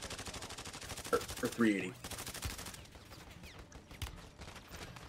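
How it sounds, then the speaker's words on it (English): Rapid automatic gunfire in a Call of Duty match, a steady rattling stream of shots, moderately loud, with a player speaking briefly over it and the firing continuing behind. "Getting shot at from behind."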